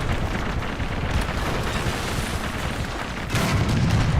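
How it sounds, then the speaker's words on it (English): A shell strikes a Tiger tank in War Thunder, landing as a dull broadband boom with rumbling battle noise throughout and a heavier low thump near the end. "That hit right there, I think may have just taken out my cannon barrel."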